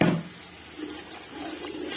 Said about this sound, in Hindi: थोड़ा सा इसमें पानी शामिल करेंगे